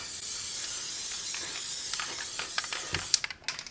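A spray of hydro dip activator hisses steadily onto a transparent film floating on water, then breaks into short bursts and spurts near the end, close and fairly quiet.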